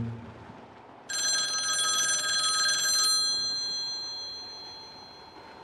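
A telephone bell rings loud and close in a continuous shrill burst for about two seconds, then fades away over a quiet room background.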